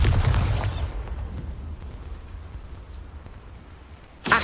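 A Bombarda blasting spell explodes in Hogwarts Legacy, one heavy boom at the start that decays into a low rumble, then a sharp burst right at the end.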